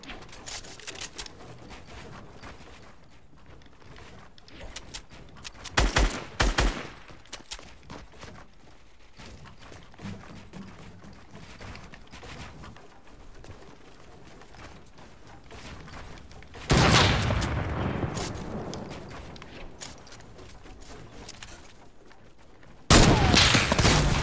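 Sniper rifle shots in a video game battle ring out in a few separate loud bursts, each a sharp crack with a short ringing tail, spaced several seconds apart over a low, steady game background.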